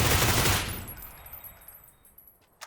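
Groza rifle gunfire from PUBG on Xbox One: a loud burst at the start that drops into a fading reverberant tail, then a sharp lighter report near the end.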